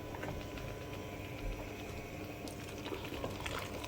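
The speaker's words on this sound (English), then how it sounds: "Now I'm going to add boiling water from the kettle" Steady bubbling and rushing of boiling water being poured from a kettle, a continuous liquid wash with low rumble throughout, no voices.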